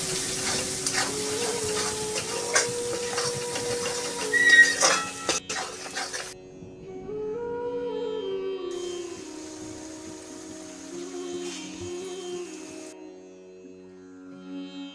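A spiced egg bhurji masala sizzles in a pan while a spoon scrapes and stirs for several seconds, then the frying fades under soft, steady tones.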